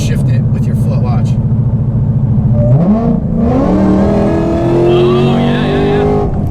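An 1100 hp Shelby GT500 on its stock engine idles with a steady low rumble, then one quick throttle blip on a downshift sends the revs sharply up and back down, under continuous conversation.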